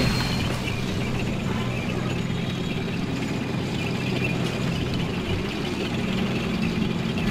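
A German tank engine in the World War I video game Valiant Hearts: The Great War gives a steady, heavy low rumble that runs unbroken from start to finish, with no voices over it.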